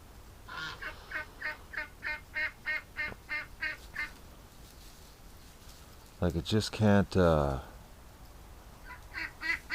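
A lame duck with badly deformed hips gives a run of rhythmic quacks, followed by a louder, harsher burst of calls, close by with someone talking in between.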